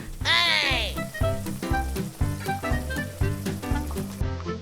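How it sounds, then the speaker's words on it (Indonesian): Cinnamon, ground nutmeg, bay leaves and lime leaves fry in a pan while being stirred, giving a steady loud sizzle broken by rhythmic scraping strokes, with a tonal voice-like sound briefly at the start. "kayu manis, pala bubuk, daun salam, dan daun jeruk. Aduk lagi"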